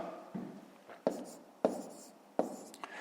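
A pen writes numbers by hand on paper while a multiplication problem from a fifth-grade maths exercise is worked out. The strokes come as close, sharp scratches with short pauses between them, heard alone without talking.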